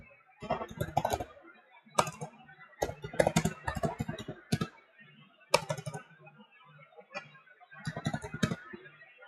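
Bursts of rapid typing on a computer keyboard, close by, with clustered clicky keystrokes separated by brief pauses.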